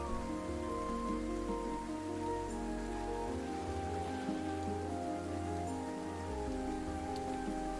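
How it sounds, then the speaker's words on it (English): Steady rain falls on a surface, a continuous even patter and hiss at low level with no pauses, accompanied by a faint background hum. "The sound of rain, am I right?"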